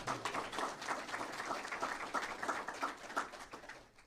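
Modest applause rises at a press conference, a thin, fairly faint patter of hands from a small crowd that fades away after a few seconds.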